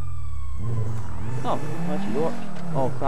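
A police car siren from GTA Online wails in rising and falling sweeps, mixed in with a game engine and other game sounds, while someone speaks excitedly over it.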